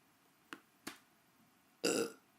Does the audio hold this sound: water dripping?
no